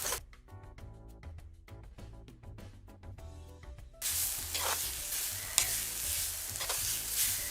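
Ingredients for a crab dish hit a hot pan, with a bright, steady sizzle and frying hiss bursting in halfway through after a quieter tonal stretch.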